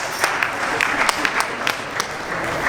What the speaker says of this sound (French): Applaudissez pour Malik Lenzonzo.